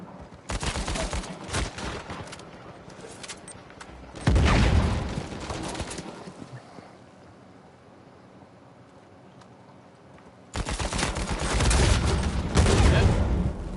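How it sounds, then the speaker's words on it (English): Shotgun blasts and gunfire in the video game Uncharted, loud clustered bursts of shots in two bouts separated by a quieter stretch of ambient wind-like noise, with faint game sounds between. "I hear them oh. shotgun shots."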